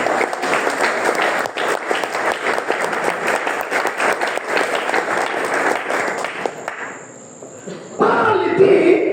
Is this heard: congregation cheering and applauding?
yes